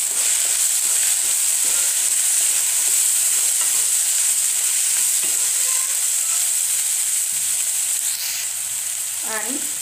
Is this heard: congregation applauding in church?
no